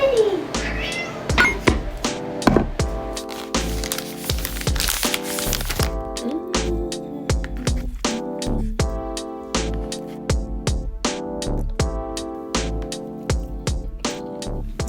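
A house cat meows repeatedly in an apartment, a series of close, fairly loud calls with rustling and a few knocks around them.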